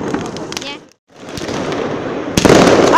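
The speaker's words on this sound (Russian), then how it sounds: "Прошло уже минут 10, а фейерверков не кончается." New Year fireworks crackle and bang outdoors, with a rapid burst of pops, a brief quiet gap, then dense continuous crackling that grows louder toward the end, under faint voices.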